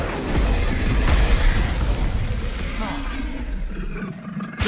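Incendio fire spell cast in the video game Hogwarts Legacy, a loud roaring burst of flame with booming pops, heard alongside a voice calling out.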